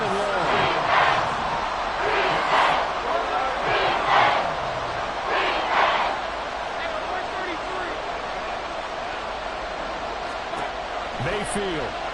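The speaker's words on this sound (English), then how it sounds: "This crowd turning up the decibel level." Stadium crowd at an American football game roaring loudly in several swelling waves, with a commentator talking over the noise.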